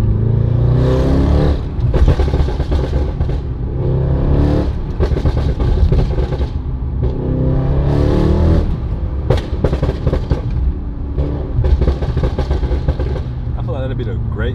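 Mercedes-AMG GT63s driven through city streets at night, its engine loud and steady throughout with bursts of revving, under heavy music and voices talking over it.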